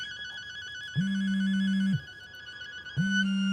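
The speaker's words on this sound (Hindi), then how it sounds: "मेरा फोन बज रहा है।" A mobile phone ringtone plays a repeating electronic tune with one-second bursts of a steady low tone starting and stopping, loud and alone with no one speaking.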